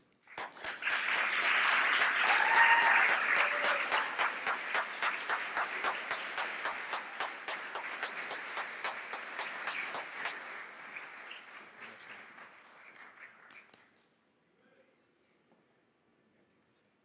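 A large audience applauds to welcome David Fergusson on stage at an award ceremony in New York, with loud sustained clapping that swells early, then fades gradually and stops, leaving near silence.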